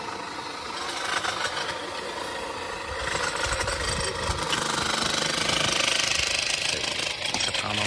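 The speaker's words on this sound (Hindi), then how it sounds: "ये काम चल रहा है हमारे फार्म हाउस का, कंस्ट्रक्शन चल रहा है" Construction work at a farmhouse building site: a steady mechanical engine-like drone with rattling, hammering texture runs throughout, loud and continuous, growing slightly stronger midway.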